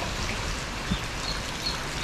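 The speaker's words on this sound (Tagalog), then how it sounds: "Ayan po, dire-diretso pa rin po yung buhos ng ulan." Heavy rain pours down steadily during a typhoon, a dense and even hiss with a few scattered drops standing out, close and continuous with no voices.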